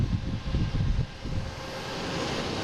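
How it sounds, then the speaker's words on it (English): A JetBlue jet on approach into Boston Logan International Airport, a broad, steady engine roar that is loudest in the first second and then settles into an even rushing drone, with no talk. "We got a JetBlue coming in here."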